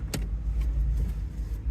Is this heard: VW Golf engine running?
yes